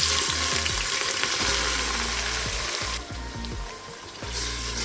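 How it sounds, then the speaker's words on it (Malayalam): Chopped onions fry in a hot pan with cloves, cardamom and bay leaf for a mutton curry, giving a loud, steady sizzle broken by repeated stirring scrapes and clanks close by, with no talk. "അതിലേക്ക് ഇനി ഉള്ളി അരിഞ്ഞത് ചേർത്ത് കൊടുക്കാം."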